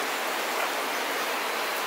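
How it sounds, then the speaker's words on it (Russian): Thunderstorm rain falls outside a balcony of the Bug sanatorium in Brest Region, Belarus, in July, making a dense, loud, unbroken rushing hiss with no voices. "Идет дождь, как слышно, гроза."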